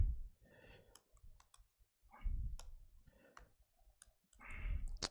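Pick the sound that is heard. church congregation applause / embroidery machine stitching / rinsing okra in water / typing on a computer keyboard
typing on a computer keyboard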